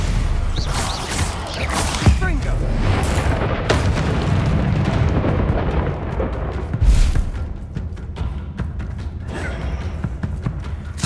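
Bombarda spells blast in the Hogwarts Legacy video game, with loud, deep booming explosions repeating over a dense, rumbling battle din.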